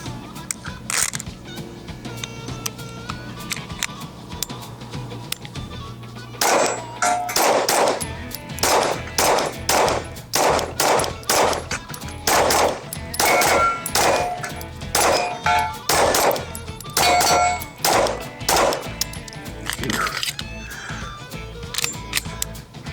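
Sig Sauer P211 GTO pistol firing Aegis Kinetics 115 grain ammunition at close range, a run of about a dozen sharp, loud shots in a steady rapid rhythm after several quiet seconds, with no talking.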